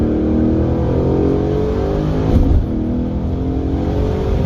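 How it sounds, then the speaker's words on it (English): Chevrolet Camaro SS engine held at high revs on launch control, a steady loud mechanical roar with a brief surge partway through and no voices. "put the clutch down, put it in first gear, smash the gas, it'll baby you out"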